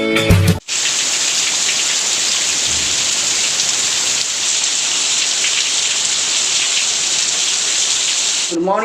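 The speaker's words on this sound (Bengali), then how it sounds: "সকাল সকাল দেখি বৃষ্টি" Heavy morning rain pours steadily and loudly, a dense unbroken roar of drops on surfaces lasting throughout, with a brief thump at the start and a short voice near the end.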